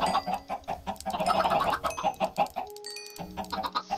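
Minecraft chickens cluck in short, repeated, choppy bursts, close and fairly loud, with a few brief pauses between calls.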